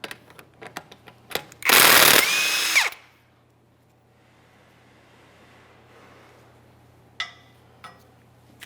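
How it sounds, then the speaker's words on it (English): On a 2015-2019 Subaru Outback rear wheel, a power tool spins off a locking lug nut in one loud, close burst of about a second, with scattered metallic clicks and clanks of handling before and after. "Once it does lock in, we can remove that locking lug nut."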